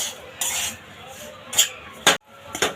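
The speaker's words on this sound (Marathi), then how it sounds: "हा रवा पूर्ण व्यवस्थित परतून घ्यायचा ह्या तेलामध्ये मंद आचेवरच परतायचं आहे" Semolina being stirred and roasted in oil in a pan over a low flame. A spoon scrapes the pan in several separate close strokes, gritty and rasping, with short pauses between them.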